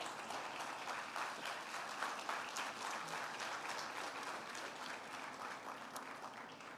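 A church congregation applauds steadily and loudly for several seconds, a dense wash of clapping hands with no pauses.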